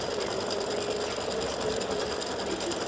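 An embroidery machine stitches out a free-standing lace pendant design on hooped stabilizer, giving a steady, fast mechanical whirring and clatter that continues evenly and fairly loud throughout, with no voices.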